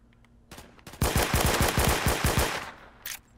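Rapid burst of sharp gunshots in the first-person shooter Phantom Forces, about nine loud close cracks in quick rhythm after a couple of earlier single shots, with a short trailing report near the end.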